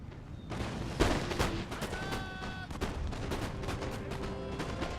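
Musket volleys from line infantry in the Napoleonic battle game Napoleon Total War at Friedland, scattered overlapping shots cracking in a dense fusillade, one louder report near the start, over a constant battle din.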